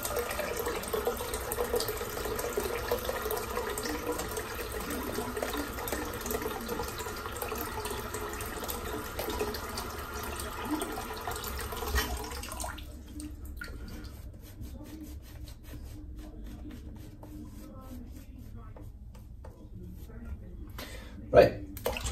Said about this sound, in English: let's fill the sink up again.